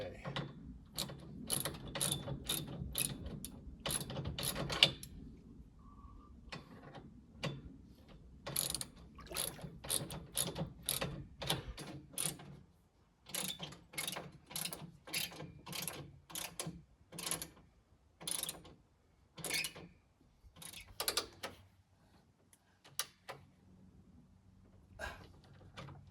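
A ratchet wrench tightens bolts on the pipe bracing of a wobbly dock, giving repeated quick clicking runs in uneven bursts with short pauses, close and fairly quiet.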